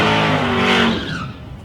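Supercharged 6.2 litre Chevrolet drag car launching at a nationals eliminations event, a loud, dense engine roar with a tire-squeal edge that holds strong for about a second before easing off.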